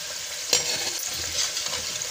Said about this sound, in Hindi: और इसी तरह हम सारे समोसे तल लेंगे